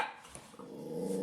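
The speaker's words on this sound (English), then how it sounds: "Here comes the cute little naughty puppy." Cartoon puppy giving a short growl followed by a quick bark, brief and close, with no speech.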